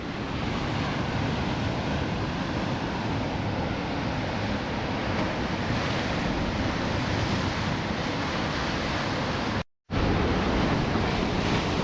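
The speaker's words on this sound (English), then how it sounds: "I didn't trust those waves a second ago" Sea waves crash against a wall in a steady, loud roar of surf mixed with wind buffeting the microphone. The noise goes on with no talk and breaks off for a moment near the end.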